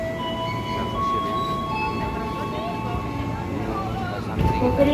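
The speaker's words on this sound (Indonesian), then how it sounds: "Kereta api yang kita maksud sudah nyampe, kita siap-siap masuk ke dalam peron" A commuter train pulls into Tanah Abang station, a steady rumble with high tonal whines and squeals running throughout and a louder clunk near the end.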